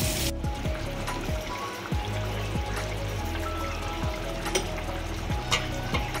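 Fish frying in a pan at home, with a continuous loud sizzle and crackle, spitting oil bursts and occasional stirring clinks close by.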